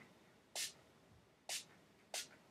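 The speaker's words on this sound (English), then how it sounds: "It's not spraying in my face, I'm spraying everywhere else." Three short hissing sprays from a makeup setting spray pump bottle, close by, spaced unevenly with quiet pauses between them.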